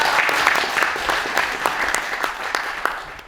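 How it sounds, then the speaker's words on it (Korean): Applause at a New Year gathering of an arts group, a dense wash of clapping from a roomful of people, fairly loud and steady before tapering slightly at the end. "박수 주세요."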